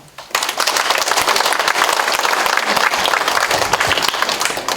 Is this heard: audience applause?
yes